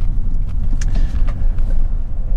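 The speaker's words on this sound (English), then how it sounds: "Engine starts absolutely instantly, settles to completely even idle." A Honda Civic 1.8 i-VTEC EX five-door car engine idling up close, a steady low rumble with an even, smooth tone and no other sounds over it.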